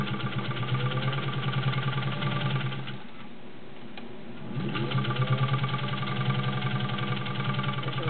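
A Singer 201-2 sewing machine stitches through 12 layers of cotton with a fast, even mechanical whir and rhythmic clatter, close by; the motor eases briefly midway before resuming.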